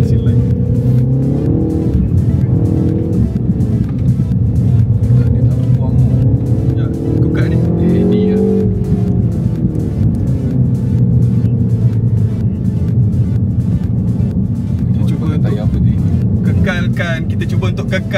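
A 2025 Mini Cooper JCW driven on a race track, its engine droning loud and close and rising and falling with acceleration through corners, with someone talking over it throughout.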